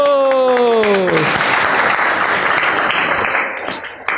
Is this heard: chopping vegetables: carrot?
no